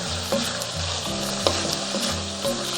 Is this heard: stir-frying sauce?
yes